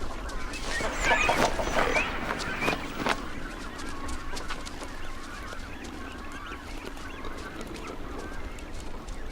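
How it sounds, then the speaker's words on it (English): Cormorants and reef herons call around a busy desert-coast seabird colony, a dense, continuous chorus of honking and squawking cries with a louder cluster of calls early on over steady background din. "Hungry cormorants and reef herons wait until chicks are being fed, then swoop in."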